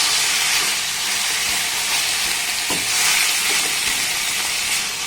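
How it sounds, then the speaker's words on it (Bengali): Pumpkin and spices are stirred and sautéed in a pan over a low-to-medium gas flame, giving a loud, continuous hissing sizzle that stays even throughout, with a faint scrape now and then and no voices. "এবার সমস্ত উপকরণ একটু ভালোভাবে নাড়াচাড়া করে কষে নেবো"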